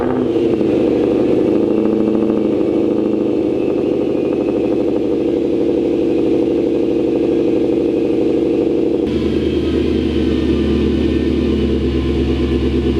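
A Ford Mustang engine idles steadily and loudly in a garage with a continuous low rumble and slight rattle, its tone shifting partway through.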